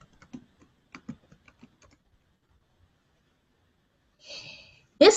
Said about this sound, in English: So notice as I keep typing the title